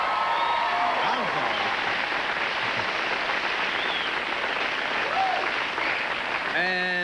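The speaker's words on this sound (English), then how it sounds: "Yeah, you can clap. You can clap." A television talk show studio audience applauds in a sustained, dense wash of clapping, with a host speaking over it near the end.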